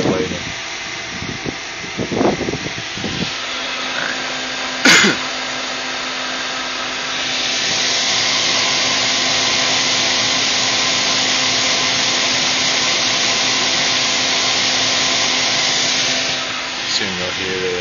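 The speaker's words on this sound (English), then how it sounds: "Soon you'll hear the heater kick up a notch. It'll start draining more power." An electric space heater powered through a 3000W power inverter hums and then rises into a louder, steady broadband fan-and-element whoosh that holds for about ten seconds, after some handling clicks and a brief thump at the start.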